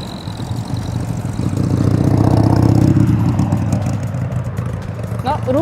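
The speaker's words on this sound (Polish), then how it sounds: "Tutaj widzę już powoli gromadzą się auta." Cars gathering at a classic car meet in a parking lot, with a steady low engine rumble that swells mid-clip, idling motors close by and talk underneath.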